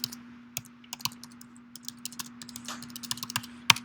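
Typing on a computer keyboard, a quick irregular run of light key clicks at close range over a steady low hum, with one sharper tap near the end.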